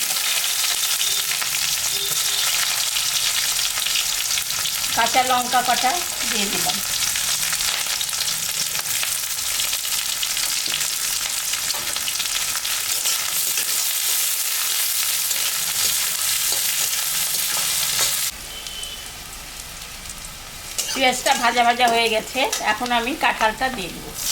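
Chopped onion fries in hot oil with whole cumin, dry red chilli and bay leaf, a loud continuous sizzle with stirring, briefly quieting before it surges again. Faint voices are heard at moments.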